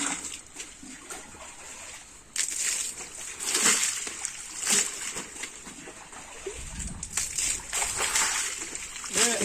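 Water is poured over daphnia held in a kitchen strainer, making close splashing and sloshing bursts that rise and fall irregularly as the live food is rinsed.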